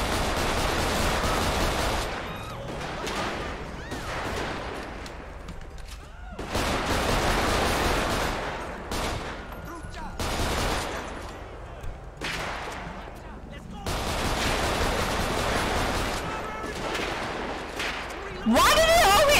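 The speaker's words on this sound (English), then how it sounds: "One, two, three, four, shots fired!" Gunfire in the LSPDFR police mod video game, repeated loud bursts of shots mixed with engine and ambient noise, in clusters separated by brief lulls, with someone speaking over parts of it.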